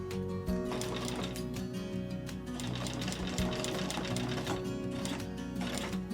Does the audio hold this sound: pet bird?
no